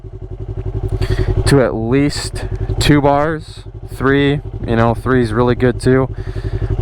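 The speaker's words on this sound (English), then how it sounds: "You start the bike." A Yamaha R3 motorcycle engine idles close by with a fast, even pulsing throb, running steadily beneath someone talking.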